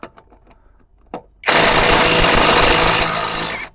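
An ELTOS AG 800BL cordless impact wrench on an 8 Ah battery tightens a nut. After a second or so of quiet with faint knocks, it bursts into a loud, sustained rattling whir that lasts about two seconds and then cuts off.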